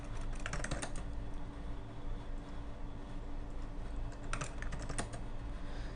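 Rapid, steady typing on a computer keyboard, with dense clusters of close key clicks over a constant background hum.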